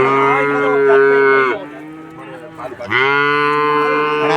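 A crossbred calf at a calf show moos loudly and close by, two long drawn-out lowing calls separated by a short pause with faint background noise.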